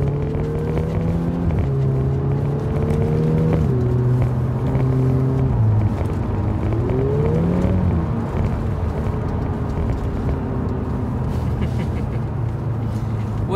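A Volkswagen Golf MK6 R on its stock exhaust drives along a road, the engine droning steadily with gear changes and gentle rises in pitch, close and continuous over road and wind noise.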